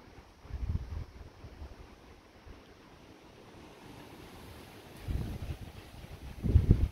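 Gusty wind roaring during a distant thunderstorm, a steady broad rush with stronger low buffets near the start and again toward the end, no thunder standing out.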